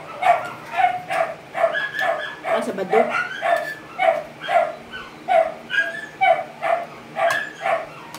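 A dog barks over and over at a steady, quick rhythm close by, with people talking over and between the barks.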